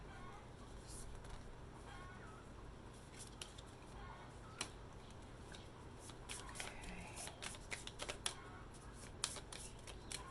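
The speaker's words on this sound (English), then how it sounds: "Okay, I'm going to pull the cards and then we'll talk about it." Tarot cards are shuffled and pulled during a reading, making soft riffling and flicking sounds with scattered light taps at low level.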